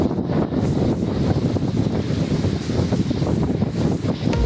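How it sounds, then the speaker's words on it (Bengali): A dense, steady wash of rain in Qatar driven by gusting wind, loud and continuous without pauses. "বিগত 2 বছর পর বাংলাদেশের মতো বৃষ্টি দেখতেছি এখানে কাতারে"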